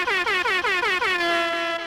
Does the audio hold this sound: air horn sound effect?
yes